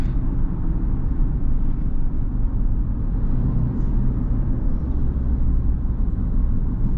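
Modified 2024 Ford Ranger on bigger tires, its engine droning as a steady, loud low rumble from inside the cab while driving, with no clear downshift standing out and no talk.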